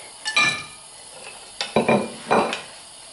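A spatula scrapes and stirs grasshoppers frying in a small amount of oil in a pan, a few separate scraping strokes with light clinks over a faint sizzle.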